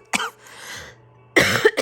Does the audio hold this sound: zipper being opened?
no